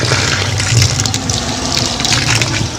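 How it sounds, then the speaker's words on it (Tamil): Water gushes and splashes steadily into an electrical earthing pit, a continuous close pour with a low gurgling rumble and no voices. "இரண்டு லிட்டர் அல்லது மூன்று லிட்டர் தண்ணி ஊற்றிக்கலாம்"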